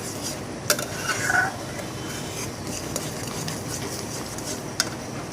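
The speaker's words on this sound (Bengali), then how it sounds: "এখন নাড়াচাড়া করবো" Stirring in a pan of brinjal pickle cooking in mustard oil, a steady close scraping and rubbing with a few sharp utensil clinks against the pan, no voices.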